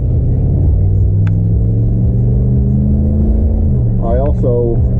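A 2019 Ram 1500 Limited with a V8, cold air intake and throttle body spacer gives a steady, loud low engine rumble from inside the cab, holding at speed, with a brief voice near the end.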